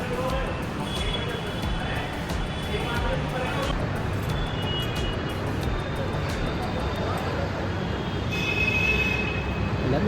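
A Jaipur metro train pulls into a station, a steady rumble of approaching rail traffic with faint squeals, heard amid platform noise and background talk.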